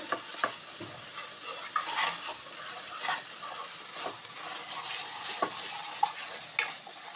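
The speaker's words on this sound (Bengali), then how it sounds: "তিন চার মিনিটের জন্য মশলাটাকে আমি একটু কষিয়ে নেব।" Masala for a chicken curry sizzles in a pan as a spoon stirs it, with repeated soft scrapes and clicks over a continuous close frying hiss.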